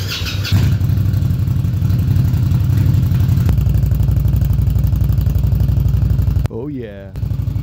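Indian Scout motorcycle fitted with a loud custom exhaust, idling with a deep, throbbing rumble close by, pulsing steadily before a brief dip and return near the end.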